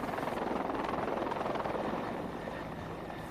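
A small passenger helicopter flying, its rotor thumping in a steady rapid beat under a broad engine roar that stays loud and close before easing slightly toward the end.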